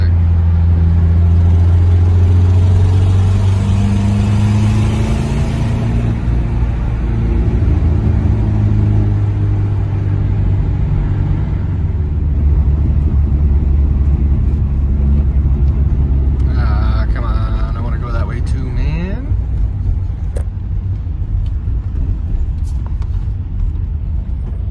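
A car drives on through heavy traffic, its steady engine and road rumble continuous and close, with other vehicles passing and a brief hiss like an air brake partway through.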